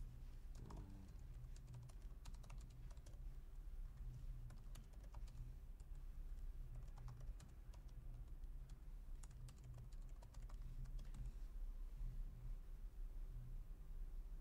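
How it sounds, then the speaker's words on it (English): Typing on a computer keyboard, a steady run of quick clicks and key taps over a constant low hum, with occasional louder keystrokes and no talking. "So now let's type in something."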